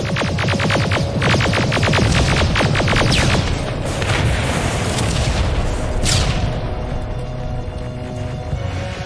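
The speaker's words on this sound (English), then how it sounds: "Rockets! They're heading this way!" Heavy rocket explosions and rapid bursts of gunfire pound in Terminator: Resistance, a loud, dense battle barrage with rattling volleys and booming blasts filling the scene.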